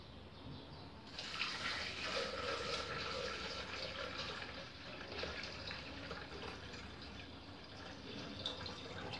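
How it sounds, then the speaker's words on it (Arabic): A measured liter of water pouring into a Thermomix bowl over fava beans for soup, a soft continuous splashing flow that starts after a moment and runs steadily for about eight seconds at low volume. "غنعبر اترو ديال الماء"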